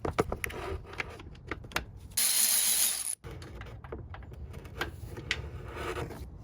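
A ratchet with a swivel and 12mm socket works a bolt on a Toyota/Lexus 2UZ-FE 4.7 liter V8, sounding as a run of quick metallic clicks broken by a bright burst of rapid ratcheting, close up.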